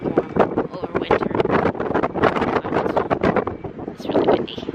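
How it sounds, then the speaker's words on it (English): Very strong wind blasting across the microphone outdoors on a cold winter day with a cyclist nearby, a loud, continuous roaring buffet with gusting surges throughout. "There's the indication of a very, very strong wind."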